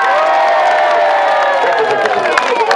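A loud crowd at a community rally in Cornillon Grand Bois, Haiti, applauding Mme Marie with cheers, whoops and shouts over scattered clapping, voices rising and falling together close by.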